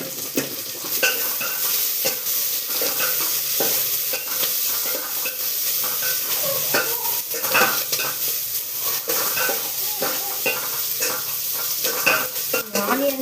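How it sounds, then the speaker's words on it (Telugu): Onions sizzle and fry steadily in a pan for pallak pappu, a continuous close crackle broken by occasional spoon scrapes and stirring clinks against the cookware, with no talking. "ఆనియన్స్ అనేవి లైట్గా గోల్డెన్ కలర్ రావాలి, అప్పటి వరకు మనం వేయించుకోవాలి"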